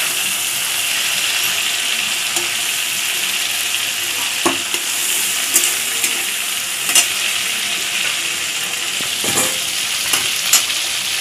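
A curry of potato, pointed gourd and prawns being stirred in a hot pan: loud, continuous frying hiss with occasional light scrapes and taps from the spoon at irregular intervals.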